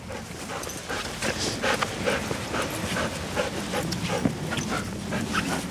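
A Fox Red Labrador on a lead walk pants steadily and lets out soft whimpers, close by and continuous, with no talking over it.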